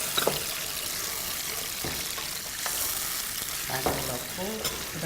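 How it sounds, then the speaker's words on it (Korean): Garlic hits a hot frying pan for bean sprout japchae, giving a steady close sizzle broken by a few scraping stirs and light clinks, with no talk over it. "마늘 넣겠습니다"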